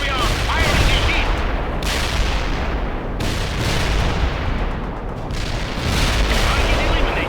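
Tank firing HEAT rounds in World in Conflict, several loud booming shots a second or so apart within a thick wall of battle noise, with voices shouting over it.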